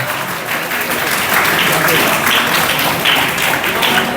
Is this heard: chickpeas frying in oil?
no